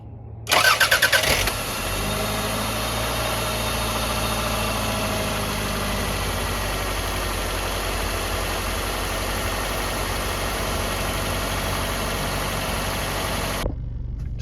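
A 1989-91 Toyota Camry engine, just fitted with a new timing belt and seals, cranks briefly with a loud starter whir, catches, then settles into a steady, even idle heard close and alone.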